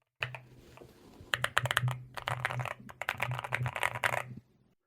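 Rapid clacky strokes on a mechanical keyboard, close up in quick bursts with short pauses, over a low steady hum, ending abruptly.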